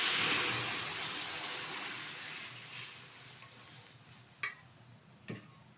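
Boiled red lentils with radish poured into a hot pan, a loud hissing sizzle that gradually fades, followed by two sharp clanks of utensil on pan, close and alone.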